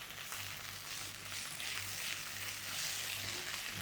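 Ginger garlic paste sizzles in a hot pan as it is stirred, a soft steady crackle with a faint low hum underneath and no talking.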